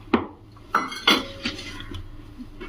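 Tea cake batter mixed in a bowl with a utensil, giving a few distinct scraping clinks and knocks against the bowl at irregular intervals, close and moderately loud, with no talking.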